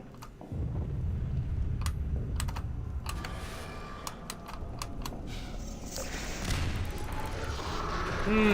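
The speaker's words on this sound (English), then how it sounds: "I do purposefully use the most clicky keyboard you ever heard." A very clicky computer keyboard clatters with sharp, rapid keystrokes in irregular bursts over game sounds and a low rumble, close and crisp, with a voice briefly heard.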